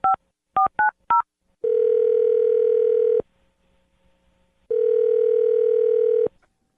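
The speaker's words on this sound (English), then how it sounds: "I'm going to dial his phone number right now" A telephone plays four quick dialing beeps, then long steady ringback tones sound twice with a silent gap between them, clear and close as if heard through the handset.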